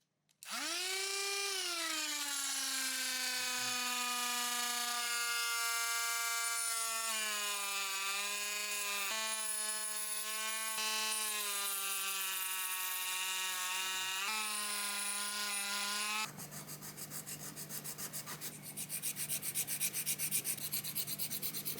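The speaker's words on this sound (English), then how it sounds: "in the next step I sand down as much resin as I can, as close to LED's surface as it is possible" Resin on an LED strip for RC car lights is sanded down, making a loud, continuous whining grind whose pitch dips and wavers, then turning into a rougher, noisier rasp near the end.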